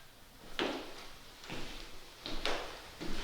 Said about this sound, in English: is that a door or something?